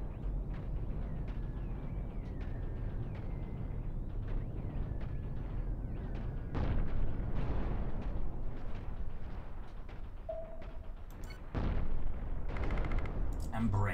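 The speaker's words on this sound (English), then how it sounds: "Activate the gun again." Ship guns fire in a Cosmoteer space battle, a rapid series of sharp game shots and thuds layered over a low rumbling drone, with a voice talking intermittently.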